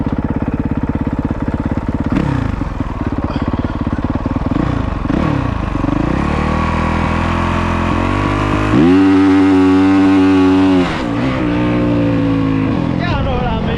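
A dirt bike's engine revs and rises as it launches, a loud buzzing drone climbing in pitch in repeated sweeps, then a sharp, high rev near the end, with voices speaking over parts of it.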